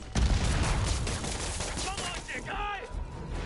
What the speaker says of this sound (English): Everyone's shooting rockets at me!